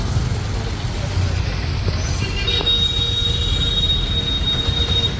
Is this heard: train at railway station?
yes